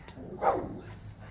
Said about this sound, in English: Dogs are going crazy over here in the corner